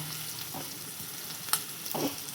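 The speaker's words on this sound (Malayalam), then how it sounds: "ചെമ്മിന്റെ തണുപ്പ് പോയപ്പോഴേക്കും ഞാൻ ചെമ്മീൻ വറുക്കാൻ കൂടെ ഇട്ടിട്ടോ" Prawns frying in a pan give a steady, soft sizzle with a few sharper pops and spatters, fairly quiet and heard on their own without talking.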